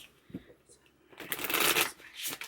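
Tarot cards are shuffled in a short, quick riffle: a soft tap first, then a dense burst of crisp card flutter, and a final flick, with no talking.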